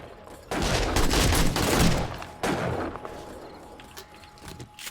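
Rocket launcher fire in 7 Days to Die, a heavy blast that erupts abruptly, rumbles loudly for over a second, then a second burst follows and fades into a lingering tail.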